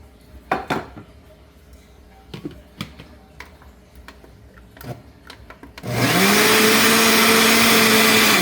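Several light clinks of utensils and dishes, then a mixer grinder grinding chutney suddenly whirs on loudly and runs with a steady high-pitched whine.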